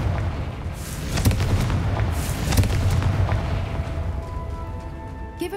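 A Confringo fire spell explodes in Hogwarts Legacy, a loud rumbling blast with sustained crackling roar and thuds fading into a lingering tone, with no talk over it.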